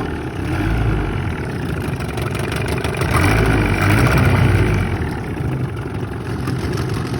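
A small Johnson outboard motor idles steadily and low on the water, a continuous rumbling putter with a slight swell in the middle, heard alone outdoors.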